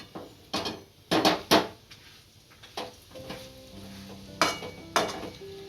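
Khajur pak mixture with coconut being stirred in a pan, a spoon scraping and knocking against the metal in irregular strokes, with a few louder clanks standing out over a faint background hum.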